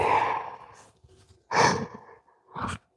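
A man yawns close to the microphone in the morning, giving a long breathy exhale. Softer breaths follow, then two more gasping, sighing breaths, with no words spoken.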